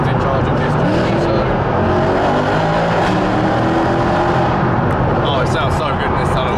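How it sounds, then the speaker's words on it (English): A Mercedes C63 AMG Black Series drives through a tunnel, its engine a loud, continuous rumbling roar from inside the car that echoes off the walls, with a voice talking over it. "We're in the C63. AMG Black Series, of course"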